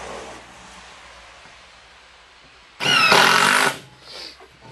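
A power driver sinks one of the last screws into a wooden ten-shot gun rack in a single loud, close whirring burst of about a second, set against quiet room noise.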